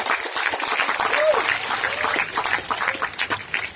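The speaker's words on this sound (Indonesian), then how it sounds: "Tolong berikan apresiasi dan aplaus buat panitia." An audience at a night-time religious gathering bursts into sustained applause for the event committee, steady clapping filling the space, with a voice speaking over it.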